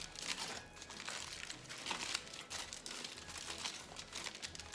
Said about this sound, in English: I'm just going to simply pick this up right out of the aluminum foil.